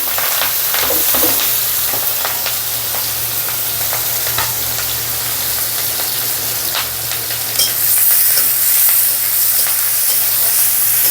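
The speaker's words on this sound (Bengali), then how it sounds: "এবার কুচি করে রাখা পেঁয়াজ মরিচগুলো দিয়ে দিব।" Chopped onions and chillies fry in hot oil in a pan, giving a steady bright sizzle with occasional crackles and pops, close up and without talking.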